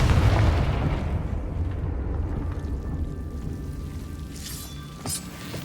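Confringo fire spell blast in Hogwarts Legacy, a loud booming explosion at the start that rolls into a long fading rumble, with a few faint sharp crackles near the end.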